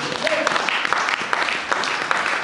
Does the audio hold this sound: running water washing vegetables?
no